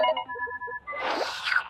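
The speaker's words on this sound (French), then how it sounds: "Téléphone, fais le numéro de Ginger." A cartoon phone in Talking Tom and Friends dials a number with a short run of clear electronic beeps, then breaks into a brighter, noisier ringing burst, close and fairly loud.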